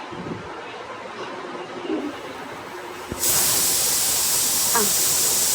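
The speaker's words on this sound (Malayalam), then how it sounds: "അപ്പോൾ വിസിൽ പോകുന്നുണ്ട്." A pressure cooker on the stove with its whistle weight removed releases steam: after a quieter stretch, a sudden loud, steady hiss bursts out and holds to the end, close by.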